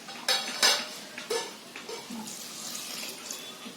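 Water is poured into a cooking pot to boil dal, with a few splashy bursts and clanks of metal near the start, then a softer trickling wash that fades lower.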